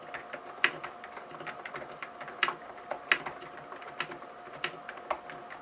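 Sparse, soft keystrokes on a quiet silent capacitive keyboard, muted thuds spaced out irregularly, close but faint against a low background hum.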